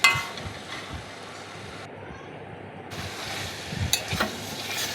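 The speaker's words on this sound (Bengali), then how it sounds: "মাংসটা দেখুন ভালোভাবে কষানো হচ্ছে।" Chicken and potatoes sauté in a pan with a steady, close sizzle and faint stirring clinks. The frying noise dips briefly midway, then returns.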